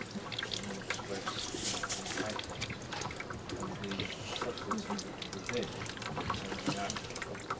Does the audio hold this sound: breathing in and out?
no